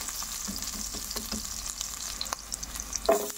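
Vegetables frying and browning in hot oil give a steady close sizzle, with a few light clicks of stirring and a brief louder spatter near the end.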